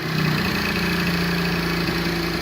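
A 50cc Blue Dino engine idles steadily at close range, a low, even putter with a constant hum and no talk over it.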